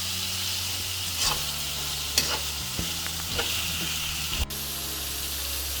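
Minced beef for a dum ka kheema curry sauteing in a pan, giving a steady close sizzle and hiss with occasional scrapes and stirring knocks throughout, no voices.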